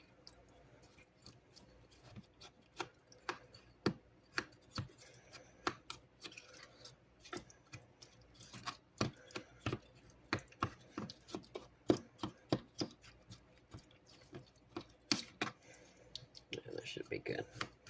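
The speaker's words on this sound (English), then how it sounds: "You want to go through and just slice these apples up into smaller pieces." A knife slicing apples into small pieces on a cutting board, making sharp irregular taps, sometimes fast and sometimes spaced, close and fairly quiet.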